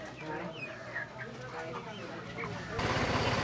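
Chickens at a chicken shop cluck and squawk in short, irregular bursts at moderate distance, mixed with murmuring voices and a rising rumble of background noise toward the end.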